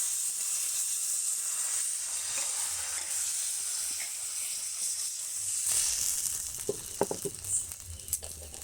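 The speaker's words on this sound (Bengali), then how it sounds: "এই একইভাবে কিন্তু প্রত্যেকটা শুকনো ভেজে নেব।" Chakli pitha dry-frying in a pan gives a soft, steady sizzle and hiss that runs throughout, with a few sharper crackles and pops near the end.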